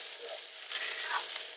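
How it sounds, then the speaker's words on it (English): Noodles being tossed with sauce in a pan for spicy beef noodles make a soft, steady sizzle with light stirring scrapes, fairly quiet and close. No speech is heard. "As you coat all of those noodles with the beautiful sauce, it smells absolutely delicious."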